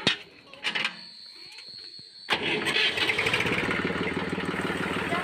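An Eicher 333 tractor's diesel engine, freshly fitted with repaired nozzles, cranks with a few short bursts, then catches and settles into a loud, close, rhythmic knocking idle.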